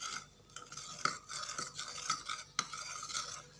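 A spoon stirs coffee powder into a thick paste in a small bowl. The light scraping and clinking strokes repeat in a steady rhythm, quiet and close, with no talking.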